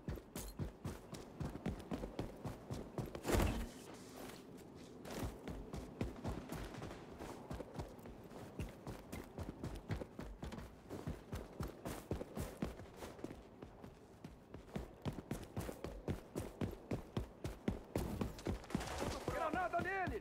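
Rapid, repeated gunshots crack in bursts throughout, some rattling like automatic fire, with muffled Portuguese voices in between, in the video game XDefiant on PS5.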